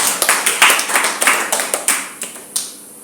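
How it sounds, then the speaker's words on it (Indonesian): A church congregation clapping hands during a Sunday worship service, sharp close claps in an uneven rhythm of about a dozen strikes that thin out and stop near the end. "Beri tepuk tangan buat Tuhan Yesus."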